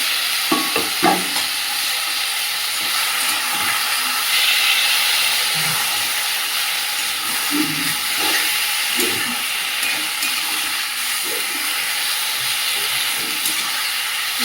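Boiled spinach and boiled potatoes with green chilies sautéing in a pan, a steady hissing sizzle with scattered stirring clicks and scrapes throughout, fairly close and with no voices.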